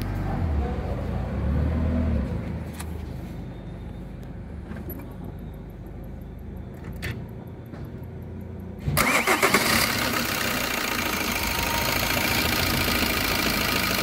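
An Opel Astra idles roughly up close, then the engine cuts out and is restarted with a sharp crank and catch near nine seconds, settling into a loud, steady idle with no voices.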